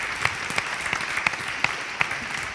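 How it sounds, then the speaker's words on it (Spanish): Audience clapping for a guest named Andrés at a live event, a steady wash of applause with a few sharper individual claps standing out, fairly even in level throughout. "Un aplauso para Hombre. Andrés."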